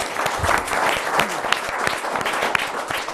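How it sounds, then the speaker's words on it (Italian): Audience applause at an Italian cycling federation event in Veneto greets the regional federation president, a steady patter of many hands clapping with a few sharper claps standing out. "un applauso Presidente"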